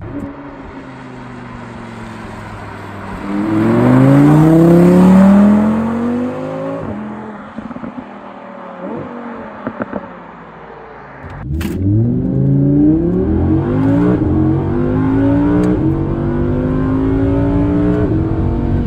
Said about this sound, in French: Est-ce que vous avez apprécié le son du V10?